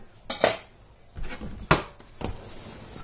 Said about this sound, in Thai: ก็จะหั่นหั่นอันนี้ใส่นะคะเพื่อน